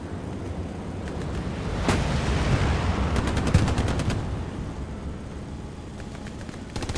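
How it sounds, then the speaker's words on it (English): A World War II battle video game in which a Panzerschreck rocket strikes a Greyhound armored car; it sounds like a continuous roar of gunfire and machine-gun bursts, with one sharp impact crack in the middle, and no talk. "Rocket comes into the Greyhound. There'll be a Panzerschreck round."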